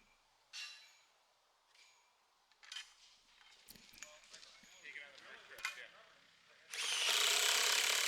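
Drill boring a hole into a railroad tie for a rail spike during track installation, scattered clanks and mechanical knocks building to a loud, sustained drilling roar at the end, with some talk.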